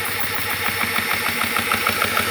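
An 18V GX PCP air pump runs loudly with a steady buzzing motor drone and a rapid rhythmic pulsing from the compressor, continuous throughout, with no speech over it.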